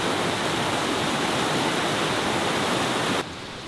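Steady broadband rush of creek water flowing past a small campsite in Myeongdal, Yangpyeong, loud and continuous, dropping slightly in level near the end with no voices.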